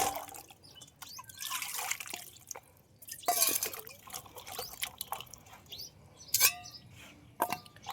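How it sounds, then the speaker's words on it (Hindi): Okra (bhindi) being washed in clean water in a kitchen: quiet, irregular splashes and drips come in small bursts, with faint bird chirps in the background and no talking. "तो भिंडी को हमने 3 बार साफ पानी से धो दिया, चौथी बार धो रहे हैं।"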